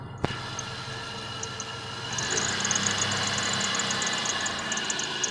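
A 1998 Dodge Grand Caravan SE engine idles steadily with a constant rumble, joined after a couple of seconds by a high, continuous squeal from a slipping belt.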